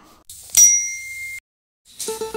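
A notification bell sound effect for a channel subscribe prompt: a bright ding with a ringing tone, then a short pause and a quick run of softer chimes, clear and up close with no voices.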